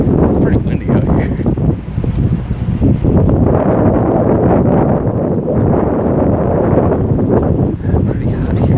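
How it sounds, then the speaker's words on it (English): Strong outdoor wind buffets the microphone in a steady, loud low rumble that lasts throughout, with only brief dips. "It's pretty windy out here."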